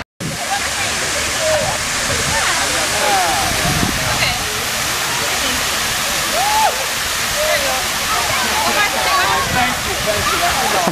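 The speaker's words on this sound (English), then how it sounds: "she's splashing water" A person splashes water outdoors at a CSULB graduation gathering, making a loud, continuous rush and slosh throughout, with voices talking underneath.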